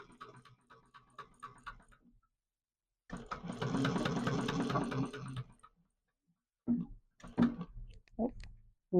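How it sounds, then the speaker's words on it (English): A sewing machine back stitching over a mini backpack seam runs with a steady mechanical whir for about two seconds. Someone talks before and after it. "I am just reversing over that a couple times, back stitching over them"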